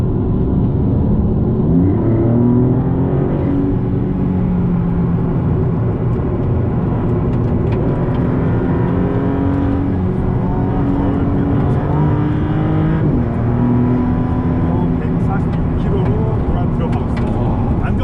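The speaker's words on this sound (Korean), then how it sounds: "터빈 소리가 휙휙 들립니다" Maserati MC20 with a turbocharged engine pulling hard uphill on the Inje circuit, a loud, continuous in-cabin engine drone rising in pitch through several gear changes under steady talk.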